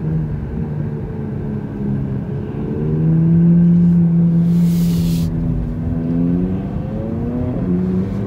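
A car engine accelerates while merging onto the 101 freeway, a steady droning rumble whose pitch climbs and shifts through the gears, loud and close from inside the cabin, with a brief gust of hiss midway.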